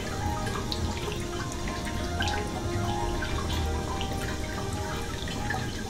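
Schnapps distillate drips from a still into a collecting vessel partway through a run. The trickling is fine and continuous, with small irregular drops over a steady background hiss and no talking.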